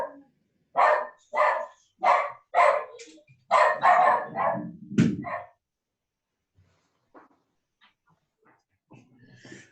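Dogs from a household pack bark in a quick burst of about eight sharp, close barks, then fall silent with only faint scattered sounds afterward.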